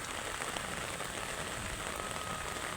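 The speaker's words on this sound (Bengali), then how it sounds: "এখন পর্যন্ত বৃষ্টি আছে" Rain falls steadily on surfaces in a village during wet-season flooding, a constant dense patter with no talking, close and even throughout.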